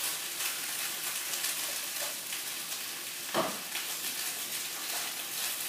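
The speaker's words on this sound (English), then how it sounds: "I think the gnocchi is getting there." Steady, close sizzling of cauliflower gnocchi frying in a hot pan, a constant crackle with a brief scrape of stirring partway through.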